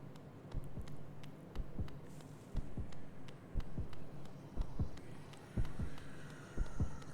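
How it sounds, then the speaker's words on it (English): A pulsing heartbeat in Hollow Knight, with regular deep thumps repeating steadily in pairs, moderately loud over a low droning ambience. "I hear a heartbeat."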